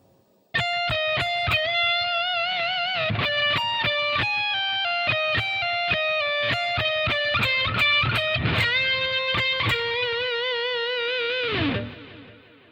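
Distorted electric guitar plays a slow solo run, picked notes stepping steadily through the phrase with vibrato, sustained and loud, ending in a held note that drops away.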